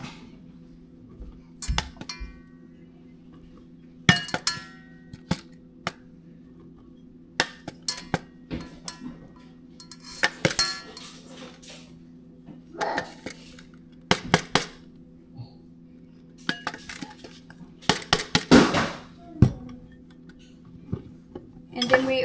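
Metal measuring cup clinking and scraping against a bowl while scooping flour for bread, scattered sharp clatters and taps spaced irregularly over a quiet background with a faint hum.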